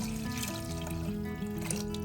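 Water trickles and splashes steadily into a cooking pot holding onion and garlic, ready for lentils, a close and continuous pour with no talking.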